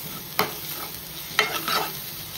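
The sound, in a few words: stirring pav bhaji masala in hot pan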